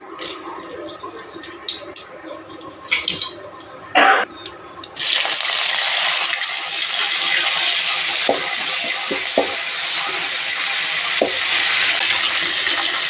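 Mustard seeds and oil frying in a pan for chicken rasam: a few scattered clinks and stirs, then a loud steady sizzle that continues with small pops and scrapes.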